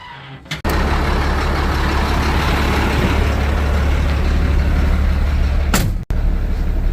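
A truck's engine runs steadily and loudly at a water-well hydro-fracking job while its air system builds pressure, a continuous rumble with a brief hiss near the start and a sharp air-brake-like burst near the end.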